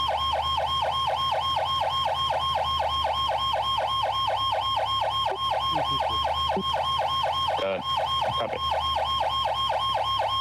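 A wailing fire engine siren from a roleplay game, responding to a structure fire, cycling in a steady, rapid up-and-down pattern, loud and continuous throughout, with a couple of brief interruptions near the end.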